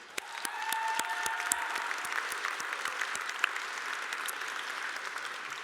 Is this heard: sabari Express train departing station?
no